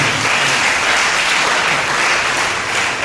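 Congregation at a church service applauding, a loud, steady, even wash of many hands clapping together for a few seconds.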